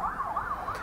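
Emergency vehicle siren, police or fire engine, wailing outside in a smooth rising-and-falling cycle, moderately loud and slightly muffled, with nothing else competing.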